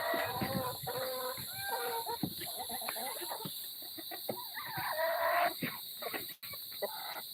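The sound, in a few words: chickens clucking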